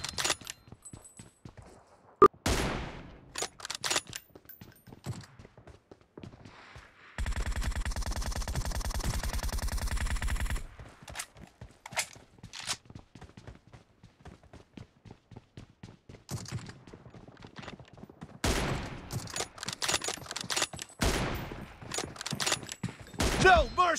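M24 sniper rifle shots in PUBG Mobile ring out as sharp repeated cracks scattered across a busy, mostly faint game soundscape, with a steadier mechanical stretch in the middle and a voice occasionally calling out.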